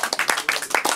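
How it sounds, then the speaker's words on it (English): A studio audience claps for panelists at a live comedy talk-show taping, a brief burst of close, distinct handclaps in a quick irregular rhythm. "Clap it up for them."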